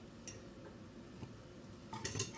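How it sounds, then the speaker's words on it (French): Butter is stirred into a hot milk sauce in a pot. Quiet scraping and a few soft spoon clinks build to a cluster of sharper taps against the pot at the end. "Je viens bien mélanger le beurre."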